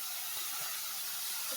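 Nimki dough pieces fry in hot oil, giving a soft, even hiss and faint bubbling. The sizzle carries on steadily, close by and quiet, with no talk over it.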